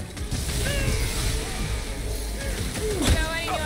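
Elevator machinery in Marvel's Guardians of the Galaxy grinds and ratchets continuously, loud metallic creaks and whining gear squeals layered over a low rumble, with brief voices from the game characters.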